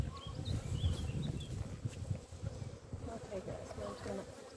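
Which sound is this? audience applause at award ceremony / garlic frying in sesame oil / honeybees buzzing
honeybees buzzing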